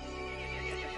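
A horse neighing in the Resident Evil Village video game, one strong, sustained whinny filling the moment, loud and close, with no talking.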